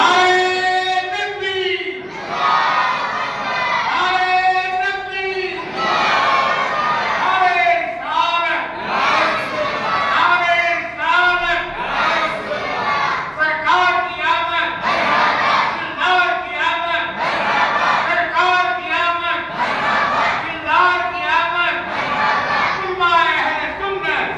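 At a milad gathering, a large crowd chants religious slogans in loud, rhythmic call-and-response bursts that repeat steadily, voices filling the space throughout.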